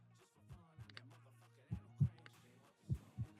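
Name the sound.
heartbeat sound effect in horror video game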